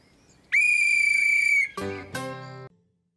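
A whistle is blown in a cartoon, first as one long, shrill, steady blast, then as two shorter, lower toots, loud and close with no voices.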